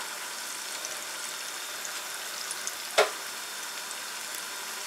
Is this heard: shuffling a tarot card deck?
no